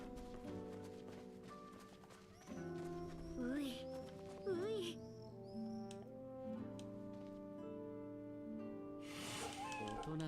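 Cat meowing in Fate/Samurai Remnant, two or three short wavering mews rising over a sustained musical score with soft clopping steps, fairly faint in the mix.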